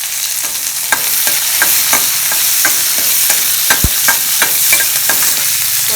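Onions and curry leaves sizzle in a hot pan for pirandai kulambu, a steady bright frying hiss broken by repeated clicks and scrapes of a spoon stirring, close and loud.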